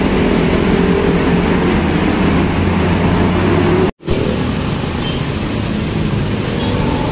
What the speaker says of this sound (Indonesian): Leo Haryanto Handsome diberangkatkan ya dari agen jembatan gantung tujuan Kota Bumi